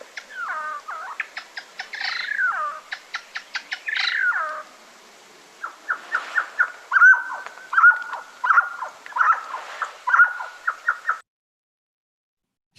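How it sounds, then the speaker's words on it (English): A mountain quail foraging on a forest floor gives a series of clear, repeated calls and song notes in rhythmic bursts, moderately close, with a pause midway and no talking. "here's the call and the song of a mountain quail foraging on the forest floor"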